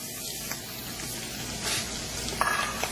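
Mushrooms and diced onion frying in butter in a pan, a steady soft sizzle with faint stirring clicks and a few louder pops near the end.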